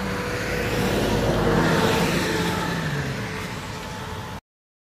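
A Nissan Patrol Y60 pulling away after refuelling, a close engine note that builds and swells under broad road and wind noise, then cuts off abruptly.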